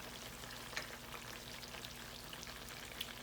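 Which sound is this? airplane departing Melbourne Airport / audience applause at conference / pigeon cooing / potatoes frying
potatoes frying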